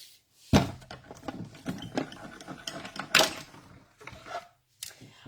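A hand-cranked die-cutting machine rolls material through, irregular clicking, ratcheting and rubbing noises with sharp knocks scattered over several seconds, close by and fairly loud.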